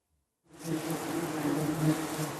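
Wasps swarm around their nest in a steady, dense buzz that starts abruptly and holds loud and close for the rest of the moment, with no voices.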